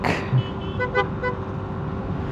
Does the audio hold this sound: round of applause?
no